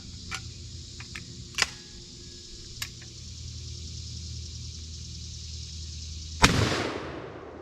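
A single sharp report from a vintage Cooey / Winchester 84 rifle fired outdoors cracks loudly near the end and decays quickly into a short echo. Faint clicks of the action come before it over a quiet, steady background.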